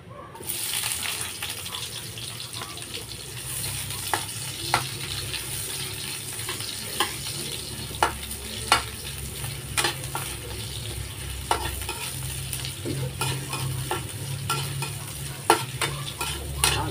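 Onions frying in a pan for a simple budget dish, a steady hiss of hot oil under repeated sharp taps and scrapes of a utensil stirring them, close up with no speech.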